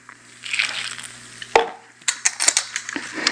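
Dates and about two cups of coconut milk being mixed with a utensil in a bowl for breakfast, scraping and clinking in short irregular bursts, close and moderately loud, with a sharp knock partway through.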